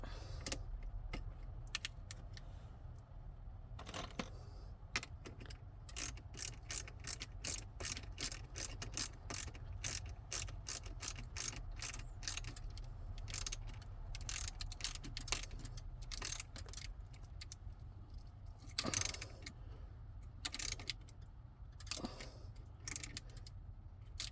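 Ratchet tightening a bolt during a DC-DC charger install in a Leisure Travel Vans RV: long runs of rapid, fine ratcheting clicks with brief pauses and a few heavier clunks, close and fairly quiet over low background noise.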